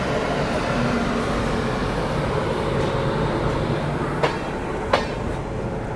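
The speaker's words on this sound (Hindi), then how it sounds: "मगध एक्सप्रेस को यहाँ पे अपनी वेस्ट बंगाल संपर्क क्रांति ओवरटेक करते हुए" The West Bengal Sampark Kranti Express runs at speed while overtaking the Magadh Express, giving a steady loud rolling rumble and hiss with two sharp clicks from the track near the end.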